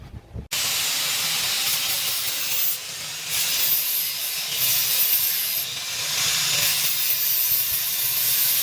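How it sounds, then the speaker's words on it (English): Angle grinder with a flap wheel clearing surface rust on a 1995 Chevy Tahoe during a solid axle swap: a sudden, steady loud grinding roar that runs continuously with slight surges, no talking. "I'm gonna come back here with the angle grinder, probably the flap wheel actually. Get this surface rust cleared off"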